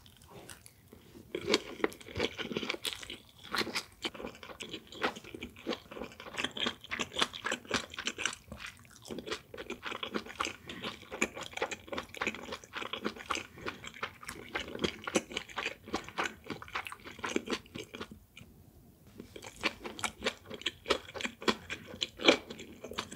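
Boiled pork belly with rice is chewed and bitten close to the microphone in a steady run of moist, crunchy bites and smacking mouth sounds, with no talking.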